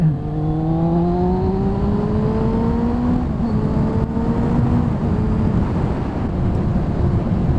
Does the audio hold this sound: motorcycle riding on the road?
yes